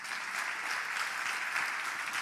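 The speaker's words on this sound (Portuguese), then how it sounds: "Dá um aplauso a Jesus." A church congregation claps together in sustained, steady applause that fills the room evenly from start to finish, with no voices rising above it.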